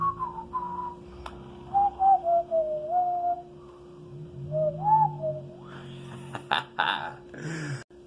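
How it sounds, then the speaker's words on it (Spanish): A person whistles a song melody with wavering, sustained tones across several phrases, some held notes and slides, over a low background hum with brief clicks near the end. "Si no eres bueno cantando como yo, puedes chiflarla."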